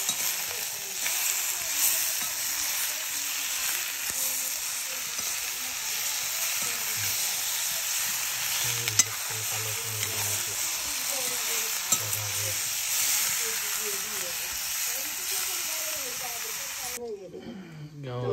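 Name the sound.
meat frying with chili and ginger in a pan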